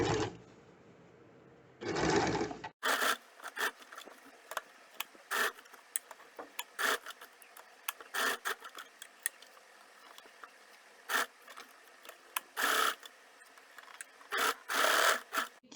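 A home sewing machine stitches piping onto a sleeve. Two short whirring bursts open the sequence, then scattered clicks and brief mechanical taps follow in a quiet room.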